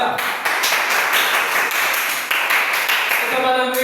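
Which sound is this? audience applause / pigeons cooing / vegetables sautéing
audience applause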